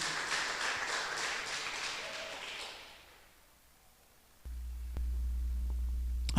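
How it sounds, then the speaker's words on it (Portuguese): A church congregation applauds in a steady wash of clapping that fades out over a few seconds, followed by near silence and then a low hum with a few soft taps. "Aplauda Ele, porque Ele é digno."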